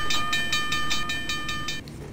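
Railroad crossing bell in the Trainz train simulator, ringing in a fast steady series of bright metallic strikes for about two seconds before cutting off, leaving low rumbling background.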